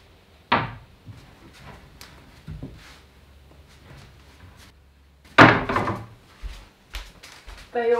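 Handmade fabric-covered cupboard doors on a rough timber frame in a forest cabin open and shut, giving several sharp wooden knocks and thunks with quiet handling noises and soft rustles between them, close up and with no voices.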